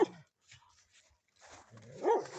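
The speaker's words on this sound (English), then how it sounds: "There's the old dog barking." An old dog barks outdoors at a farm meadow, giving a few faint, scattered woofs and whimpers separated by quiet gaps, ending with a slightly louder bark.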